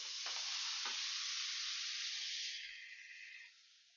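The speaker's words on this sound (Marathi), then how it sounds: "सुकट आधी घालायची आहे, कारण ती वशट असते, त्यामुळे आपण ती परतून घ्यायची आहे." Dried prawns (sukat) sautéing in hot oil with garlic give a loud, close, continuous sizzle with a couple of quick stirring scrapes early on, then fade slightly toward the end.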